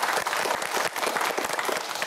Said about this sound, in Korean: 큰 박수 보내주시기